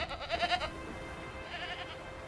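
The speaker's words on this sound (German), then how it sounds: "Ah, da vorne ist ja auch schon die Ziege." A goat bleats in The Witcher 3 in a few wavering, nasal cries at moderate volume, followed by a fainter bleat later over steady game ambience.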